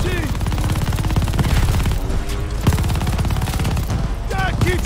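Sustained gunfire in the World War II shooter Call of Duty Vanguard, set at Stalingrad, with dense rapid bursts and sharp shots continuing throughout, loud and close, with voices calling out over it.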